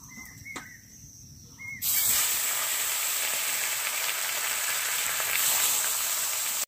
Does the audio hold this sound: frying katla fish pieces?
yes